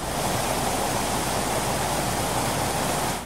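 Bhambavli Vajrai waterfall in Satara, fed by the Urmodi river and plunging from a hilltop in three tiers, roars as a dense, even wash of water noise, loud and unbroken, with no voices.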